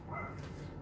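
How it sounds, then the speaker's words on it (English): A dog barks nearby during a card-flourish lesson, giving a short burst of sharp, repeated yelps under a steady indoor background, close and fairly loud for under a second. "I'm so sorry about the barking."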